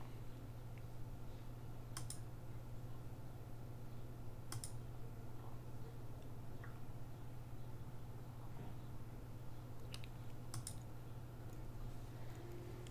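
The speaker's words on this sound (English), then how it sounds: "This is the current keyboard you can see that I'm using." Sparse clicks from a computer keyboard, a handful of isolated key presses spaced seconds apart, faint against a steady electrical hum and room noise.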